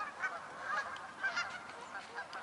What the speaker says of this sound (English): The geese over there are having a grand old party.